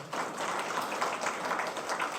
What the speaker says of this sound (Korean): 우리 더 힘차게 박수로 격려해 주십시오